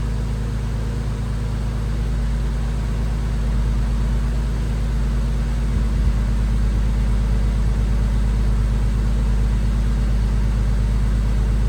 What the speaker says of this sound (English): Okay, rev engine with loads off.